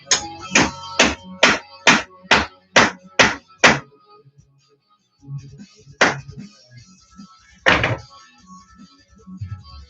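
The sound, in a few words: hammering round-head bolts in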